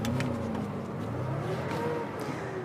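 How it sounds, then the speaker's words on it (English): A Porsche 911 with Sportomatic transmission, in neutral and not yet prepped, idles with an uneven, slightly rising engine note that settles into a steady mid-loud hum, recorded close by. "Start the engine."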